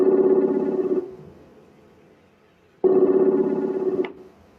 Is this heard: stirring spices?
no